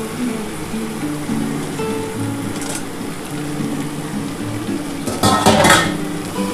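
Mutton goes into a pan of well-fried spices, first as a clatter of utensils and metal against the pan, then a louder burst of sizzling near the end.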